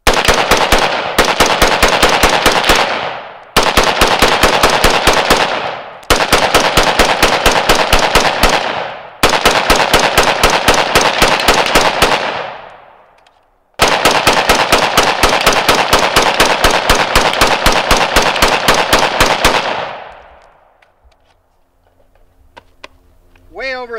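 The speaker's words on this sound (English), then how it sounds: "Let's charge up this weapon and fire this in short order." Huldra Mark IV piston-driven AR-15 firing corrosive Russian 5.45 ammunition, loud rapid strings of shots in long bursts with short pauses between, ending in quiet with faint clicks and handling.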